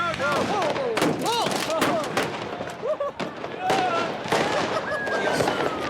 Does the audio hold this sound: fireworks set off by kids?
yes